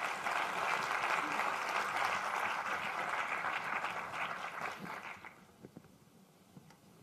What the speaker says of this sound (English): Give them a round of applause as they settle in.